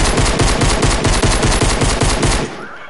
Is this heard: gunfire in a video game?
yes